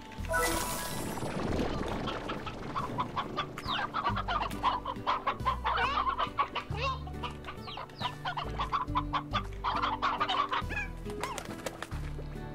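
Chickens and roosters in the Slime Rancher video game cluck in quick overlapping bursts over a steady low background music loop, busy and continuous.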